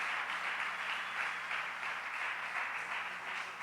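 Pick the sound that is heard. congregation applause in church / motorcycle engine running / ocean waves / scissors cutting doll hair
congregation applause in church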